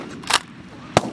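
Shotgun blasts during an early-season Pennsylvania goose hunt, two sharp reports about half a second apart, nearby and fairly loud.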